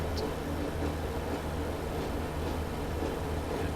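A Class 142 Pacer diesel railbus rumbles along steadily in a train simulator game on a Scottish line, a constant low, moderately loud drone with no talk.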